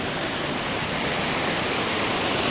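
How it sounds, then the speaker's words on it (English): Small fountains splash steadily into a koi pond at a Hawaiian resort, a continuous close, loud broadband wash of falling water with no talk. "And all of these little fountains are cute as well"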